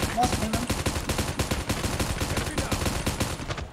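Rapid gunfire in the battle royale mode of Call of Duty Mobile: loud, close bursts of automatic fire in a quick, steady rhythm, with faint voices underneath.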